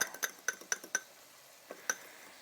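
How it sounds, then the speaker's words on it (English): Whisking a dressing of minced garlic, brown sugar and ginger in a bowl, a run of sharp metallic clinks against the side, loud and close, fading to a few sparse taps. "I'm going to whisk this all up"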